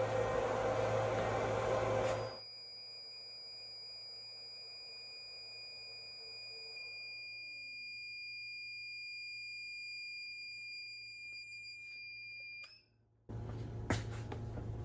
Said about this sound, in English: The inverter started screaming a low voltage alarm